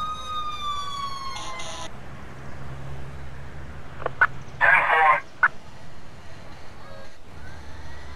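In the Emergency 4 game with the Montana mod, a police vehicle siren gives a few short electronic yelps and whoops amid quiet background game ambience, with faint talk present.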